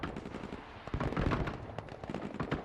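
Autocannons fire during a night invasion mission in the video game Broken Arrow, rapid bursts of thudding shots packed close together, fairly quiet and distant, with no talk over them.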